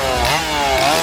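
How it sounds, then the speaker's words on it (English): A chainsaw revs loudly and close by at a Halloween horror event in a theme park, a continuous buzzing drone that wavers in pitch as the throttle rises and falls. "They got loads of chainsaws down here."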